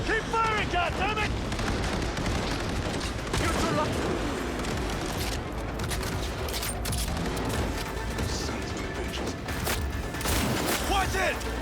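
Gunfire in Cyberpunk 2077 during a firefight, dense and continuous bursts with booms and impacts layered over music and game sounds, loud throughout.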